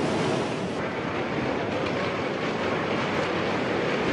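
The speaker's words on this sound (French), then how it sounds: "Dans un vacarme assourdissant, la vague géante déferle" A giant tsunami wave crashes ashore at Miyako, Japan, a deafening, continuous roar of churning water and debris that stays loud and unbroken throughout.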